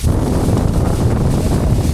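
Cold wind sweeps across the summit of Mount Agung in Bali at 3142 m, a continuous, loud, rumbling gust that buffets the microphone with no pauses or voices.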